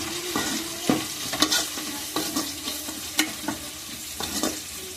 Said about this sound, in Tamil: அதை லேசாக கிளறி விட்டுக்கிடுவோம்.